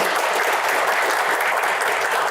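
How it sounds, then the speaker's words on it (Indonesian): Steady applause from an audience at a Q&A panel event, a dense continuous wash of clapping that holds at an even loudness for a couple of seconds with no voices over it. "tepuk tangan untuk Pak Burhanuddin"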